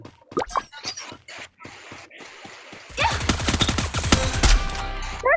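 Rapid automatic gunfire in a Free Fire MAX squad ranked match, starting with scattered single shots and clicks, then erupting into loud, dense bursts of sustained fire for the second half.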